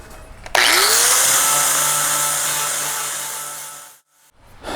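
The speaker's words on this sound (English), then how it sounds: "I'm just going to go ahead and grind the paint away" An angle grinder strips paint from the front-end sheet metal of a 1947-87 Chevy or GMC truck: a sudden loud whine that spins up and holds a steady high grinding tone for about three and a half seconds, then cuts off into a brief quiet.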